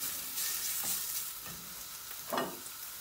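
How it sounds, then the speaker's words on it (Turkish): Fatty cuts of meat dropped into a hot pan without added oil, sizzling softly while being stirred, with a few brief scraping strokes and a louder burst of frying near the end. "Etin yağlı kısımlarını tavanın içine bir attım şöyle, bir karıştıracağım."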